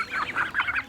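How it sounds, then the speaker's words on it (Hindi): Free-ranging chickens by a village pond give a quick run of close, lively clucks, several short calls packed into about a second. "तालाब किनारे इन्होंने मुर्गी उर्गी भी खूब पाली हुई, सब मुर्गी चर रही हैं।"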